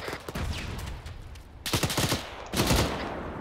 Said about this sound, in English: T-72 still up, firing coaxial.